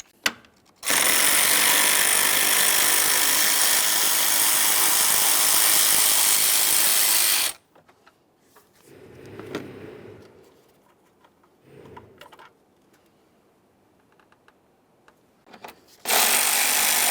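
Power tool loosening the 10mm mounting bolts on the fan assembly of a 2015-2020 Ford F-150 3.5L V6, one long steady whir of about seven seconds, then softer clunks and handling noises, and a second burst starting at the end.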